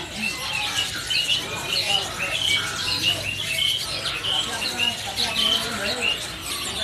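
A crowd of caged cempering birds in a bird shop, chattering with dense, high squeaky chirps and squawks that overlap continuously at moderate loudness, with a person speaking over them.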